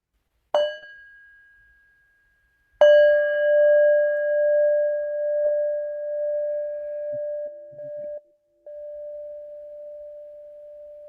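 A meditation bell is struck twice. The first strike fades quickly, then the second rings out clear and sustained, humming on steadily for several seconds in an otherwise quiet room.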